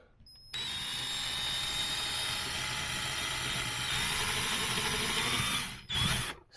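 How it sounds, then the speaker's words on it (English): A power drill bores pilot holes for side table brackets, whirring steadily and loud for about five seconds, stopping briefly and then spinning up once more for a short burst. "So I'm just going to drill these holes in place here"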